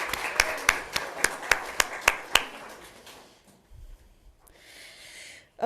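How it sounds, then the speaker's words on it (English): A conference audience at a climate data side session claps in a short burst of about nine sharp, evenly spaced claps that fade quickly into quiet room noise, followed by a faint hiss. "Let's give a round of applause for Rachel and the grad students."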